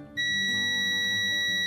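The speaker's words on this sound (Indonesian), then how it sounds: "Jadi di lambang dioda atau buzzer, bila ini tersambung atau short akan bunyi." A digital multimeter's continuity buzzer gives a steady high-pitched electronic beep that comes on abruptly and holds continuously, loud and close, over a faint hum.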